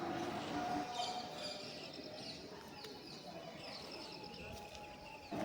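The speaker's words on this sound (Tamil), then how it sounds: "பறவைகளின் சத்தத்தை கேட்கும் பொழுது மிக ரம்மியமாக இருக்கிறது." Birds call faintly in the grounds of Ekambareswarar temple in Kanchipuram, soft cooing and light chirps drifting over a steady open-air background hum.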